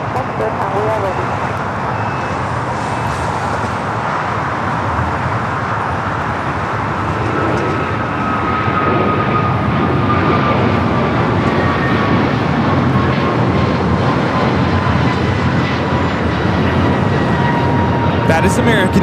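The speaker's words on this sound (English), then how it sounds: "taking off to Philadelphia on the A321neo" An American Airlines Airbus A321neo takes off at LAX bound for Philadelphia, its steady, loud jet roar holding for the whole stretch along with a slowly falling whine. Airport traffic hums underneath.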